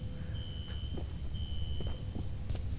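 Fire alarm in the video game F.E.A.R. beeps in long, steady high tones over a low rumbling game soundscape with scattered clicks, no talking.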